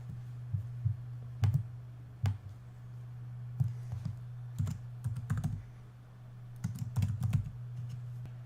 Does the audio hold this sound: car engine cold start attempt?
no